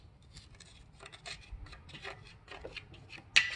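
A screwdriver scraping nearly 20 years of built-up grease and dirt off a 2003 Cobra 4-valve engine, giving repeated short rasping strokes up close, ending with a sharper scrape.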